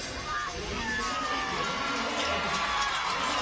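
Crowd at the CrossFit Games cheering on a female athlete lifting in the Individual CrossFit Total, a broad roar of voices under a commentator talking.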